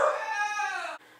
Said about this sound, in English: my sister's dog is here.